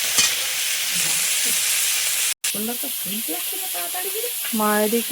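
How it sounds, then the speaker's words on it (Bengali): Live koi fish sizzle and spatter steadily in a hot frying pan in a home kitchen, a close, continuous crackling hiss with a brief break, while people talk over it. "মাছগুলো তো দিয়ে দিলাম, দিয়ে এই ভাজা হচ্ছে"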